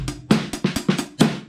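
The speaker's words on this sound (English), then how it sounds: "So the offbeat snare sounds like this" An offbeat snare drum pattern played on a kit: about six sharp, evenly spaced snare hits with bright rattle, close and fairly loud, with no talking.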